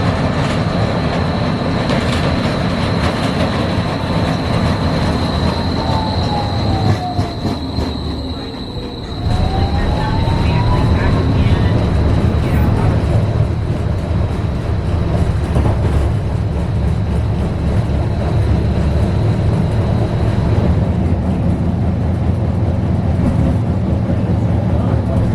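A TriMet trolley rolls through a pedestrian plaza in Portland with a steady loud rumble of wheels on track, long squealing tones and clattering over rail joints, continuing throughout with little break.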